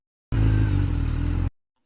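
A motorcycle engine fires up and runs in a short, steady, moderately loud burst of about a second before stopping abruptly.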